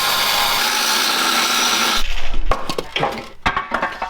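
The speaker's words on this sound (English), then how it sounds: "He had to get the old trusty electric grinder out because all our batteries are dead." An electric grinder cutting through a car frame during rear cross member bodywork: a steady loud whine for two seconds, then stops, followed by clanks and scraping of metal parts.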